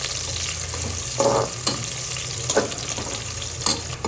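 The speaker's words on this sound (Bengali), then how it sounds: "পেঁয়াজ দিয়ে দিয়েছি, এর মধ্যে আমি এলাচ, দারচিনি আর লং দিয়ে দিলাম, ভালো করে নাড়িয়ে দিচ্ছি।" Onions fry in a pan with cardamom, cinnamon and cloves while being stirred, a constant sizzle marked by several crisp spatula scrapes and knocks, close and with no talking.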